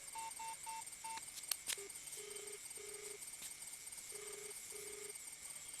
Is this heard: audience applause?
no